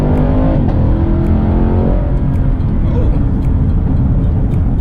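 A 2019 Camaro SS launches hard from a footbrake stop, its V8 roaring loud and close from the cabin as the engine note sweeps up through the revs, drops at a shift and climbs again.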